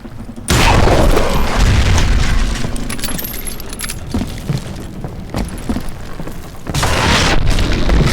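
Dynamite explosion in the western shooter game Call of Juarez: Gunslinger, a loud sudden boom with a long rumbling tail and clattering debris, followed by a second blast near the end.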